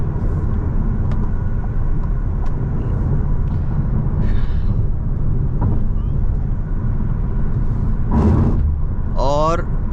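Steady broadband wind and road roar fill the cabin of a VW Tayron R-Line cruising at 110 km/h around 1900 RPM, a constant loud hush with a voice talking over it.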